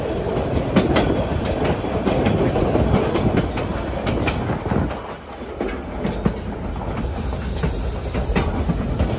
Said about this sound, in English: heading down into Alaska on the train